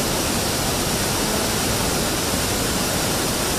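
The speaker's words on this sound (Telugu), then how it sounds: "కాబట్టి ఈరోజు నీటిని విడుదల చేయడం జరిగింది" Water roars out of the opened gates of the Maner dam in Karimnagar, a dense, constant rushing wash that fills the whole stretch loudly and evenly without any voices.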